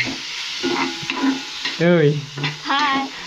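Chopped onion fries in oil in a pan, giving a constant bright hiss. Brief squeaky, voice-like tones rise over the sizzle at moments.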